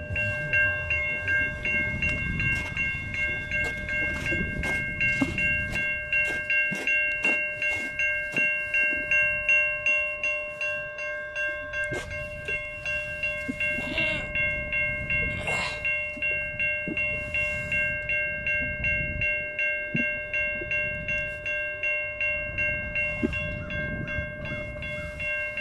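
A malfunctioning railroad crossing signal on Portage Road rings on and on in a steady, rapid pulse, with sustained tones, occasional clatter and rumble, close and fairly loud.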